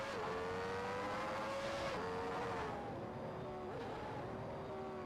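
Open-wheel race car engine in a 1991-season racing video game, a high sustained whine holding pitch with a few upshift drops while running in another car's slipstream, steady and moderately loud with no voices.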